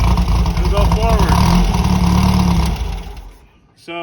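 A 1964 Formcar Formula Vee race car engine runs loud and rough close by, with a person talking over it, then dies away into near silence before a brief tonal sound at the close.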